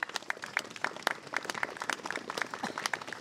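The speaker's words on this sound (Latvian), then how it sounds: "Aplausi!" An indoor audience at a charity concert for Ukraine claps warmly. The applause is a dense, steady patter of many hands at moderate loudness.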